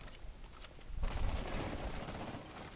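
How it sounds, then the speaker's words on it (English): Gunfire in Rainbow Six Siege during a Bank team deathmatch, with shots coming through a wall: a muffled, continuous rumble of rapid shots that swells after a few softer, scattered pops, moderately loud and steady. "Through that wall they're shooting you"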